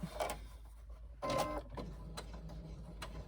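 A sewing machine stitches along fabric toward a corner for a crossbody bag, heard as short whirring bursts with pauses between, close and moderately quiet, with no talking.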